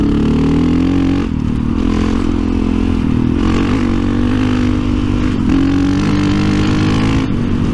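A Suzuki V-Strom 650 adventure motorcycle accelerating hard on a ride, its engine roaring loud and close with rising pitch across gear changes, mixed with heavy wind rush.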